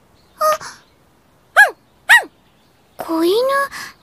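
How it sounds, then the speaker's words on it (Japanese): A small puppy in an audio drama gives a soft whimper, then two sharp high yips, and ends with a longer quavering whine, all close and clear with quiet gaps between them. "子犬"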